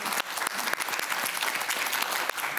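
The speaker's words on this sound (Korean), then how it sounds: "자, 박수 한번 보내주세요." Studio audience applause on a Korean morning talk show, a steady dense wash of clapping hands that holds evenly for the whole stretch with no voices.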